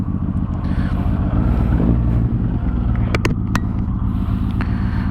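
A first-series Yamaha MT-01 big-displacement motorcycle with twin left and right Akrapovic exhausts idles with a deep, loud, throbbing rumble, swelling slightly in the middle, with a few sharp clicks over the steady engine tone.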